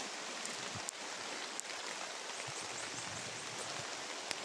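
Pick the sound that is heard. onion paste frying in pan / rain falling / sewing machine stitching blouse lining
rain falling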